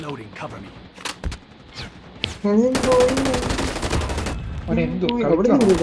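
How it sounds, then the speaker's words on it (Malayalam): Bursts of Call of Duty Mobile gunfire, rapid automatic shots and single cracks, mixed with people talking excitedly. "എന്നെയൊക്കെ വെടി വെക്കുന്നതാണല്ലോ തോന്നുന്നു."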